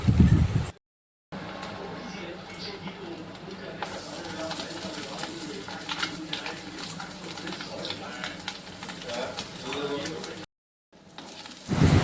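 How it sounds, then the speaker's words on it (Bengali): Onion and egg frying in a pan give a steady, moderate sizzle and some stirring, with brief silent gaps near the start and end and soft bird cooing in the background. "চলো ততক্ষণ আমি পেঁয়াজটা আর ডিমটা ভালো করে ভাজতে থাকি।"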